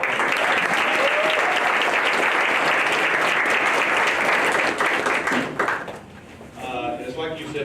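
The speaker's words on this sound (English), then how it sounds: "round of applause." Audience at a campus unity program giving a sustained round of applause, thick and even clapping that thins out and fades near the end as a voice begins to speak.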